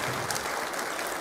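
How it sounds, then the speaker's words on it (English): A church congregation applauds during a Vietnamese worship service, the steady wash of many hands clapping filling the room at moderate volume without pause. "round of applause."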